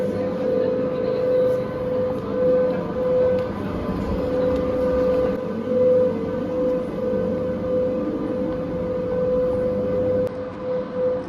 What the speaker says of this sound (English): Here it is, Przemyśl train.